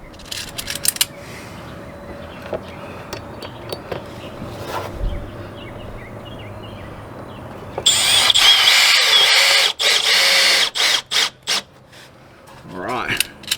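A power drill works on a camper trailer being repaired after a tire blowout, driving screws with a loud whirring burst and short stop-start pulses, after quieter handling noises and a few knocks.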